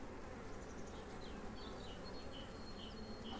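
Honey bees buzz steadily in a dense swarm of worker bees in flight, a constant hum with individual bees whining past nearby.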